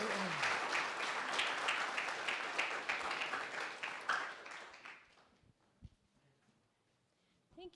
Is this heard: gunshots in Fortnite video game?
no